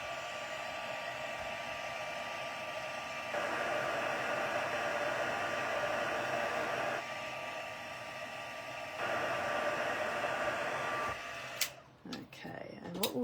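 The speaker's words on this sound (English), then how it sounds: "put the heat tool on again" A heat embossing tool blows hot air in a steady, loud hiss whose strength shifts a few times as it is moved, then cuts off near the end with some handling clatter.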